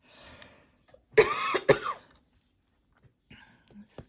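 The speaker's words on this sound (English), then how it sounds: "I'm going to cough." Two sharp coughs from a tickle in the throat in quick succession, close and loud, followed by quiet breathing and a few faint rustles.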